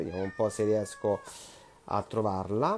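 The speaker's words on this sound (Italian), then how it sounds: "questo è il mio gatto femminuccia che ovviamente vuole le attenzioni" A female house cat meows repeatedly for attention, several clear, close, rising meows in quick succession, while a person speaks briefly in between.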